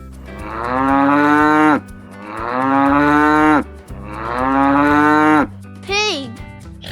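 A cow lows three times in long, loud, drawn-out moos, each falling slightly in pitch at the end, followed by a shorter, higher call.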